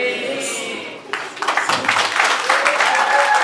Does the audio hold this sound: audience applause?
yes